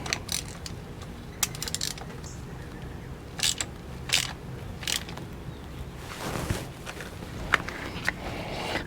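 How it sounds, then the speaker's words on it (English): A spark plug socket on a ratchet tightens a pre-gapped NGK spark plug in a motorcycle engine, giving close, irregular metallic clicks and creaks with a few sharper ticks and a rougher grinding stretch, no speech. "I'm going to take my spark plug socket and be careful. Reach in, tighten down your plug."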